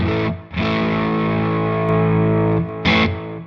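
Distorted electric guitar chords through a compressor pedal ringing out with a squashed, even sustain, briefly cut off and then struck again, loud and close.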